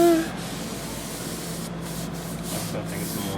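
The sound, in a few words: spraying water to wet window casing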